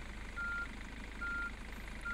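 A street cleaning truck in the game Street Cleaning Simulator gives three evenly spaced electronic reversing beeps over a steady engine hum, with no talking.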